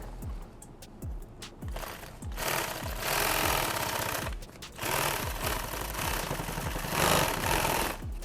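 A sewing machine stitches a modular frog chest rig, running in rapid rhythmic bursts of mechanical needle thumps with brief pauses between runs, close and fairly loud with no talking.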